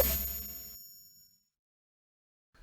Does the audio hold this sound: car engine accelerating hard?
no